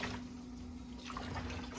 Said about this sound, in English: we're just rinsing it in the hot water.